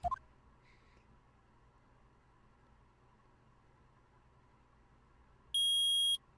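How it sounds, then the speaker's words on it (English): Electronic detector in the Phoenix Wright: Ace Attorney video game giving a loud, steady high-pitched beep for about a second near the end, after a quiet hum and a brief faint tone. "Beep, beep. It reacted."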